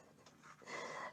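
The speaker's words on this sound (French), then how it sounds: "Et il y a Toutou qui est en train de grimper sur le canapé, il chasse les mouches." A dog pants steadily while climbing onto a sofa and chasing flies indoors, the quick breathy rasps close and fairly faint, growing louder and denser toward the end.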